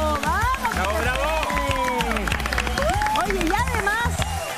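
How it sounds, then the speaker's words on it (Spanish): Studio audience applause on a live Spanish-language television talk show: loud, steady clapping mixed with cheering and shouting voices, filling the room throughout. "¡Un aplauso! ¡Vamos! ¡Bravo, bravo!"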